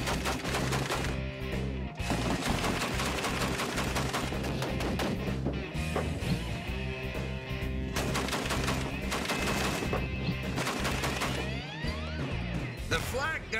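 A flak gun mounted on a half-track fires continuously in loud, dense bursts of overlapping shots that keep going without a break under heavy mechanical noise.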